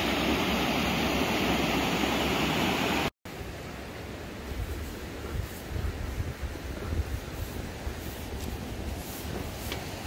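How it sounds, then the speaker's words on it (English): A clear river flows beside a canyon trail in Banff, a steady broadband rush of water. A loud, wind-buffeted stretch comes first, then a brief cut, then the softer, continuous flow. "And on the side, the river flows."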